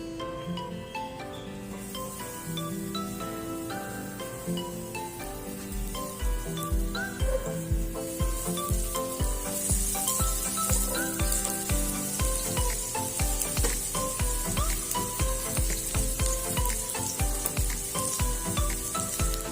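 Onion hits hot cooking oil in a heated pan, producing a loud, continuous crackling sizzle with faint clinks of stirring, up close and steady throughout with no talking.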